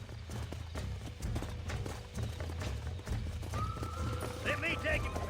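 Horses in the Red Dead Redemption video game clop along with steady hoofbeats and give a whinny near the end, with speech over the scene and game music or ambience underneath.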